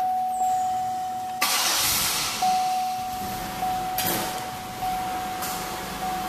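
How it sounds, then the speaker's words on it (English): A 2008 Buick LaCrosse engine cranks and catches, a sharp burst followed by a steady idle, with a few louder pulses as it settles, close by and without talk. "Start it up here so you guys can hear it."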